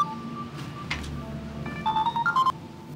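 An incoming call's ringtone plays on a phone, a bright melodic electronic tune of short stepped notes that grows busier toward the end, fairly close and with no talk over it.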